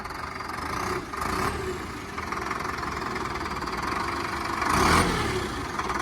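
A Sonalika 60 Rx Turbo tractor engine runs close by with a steady diesel rumble, rising briefly in a couple of louder surges as it works under load.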